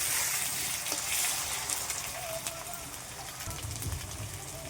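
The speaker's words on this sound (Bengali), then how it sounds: "আবার দেবো রসুন, রসুনটাও কিছুক্ষণ ভেজে নেব।" Onion and garlic sizzling in a pan, a steady soft crackle and spatter that continues throughout at low volume.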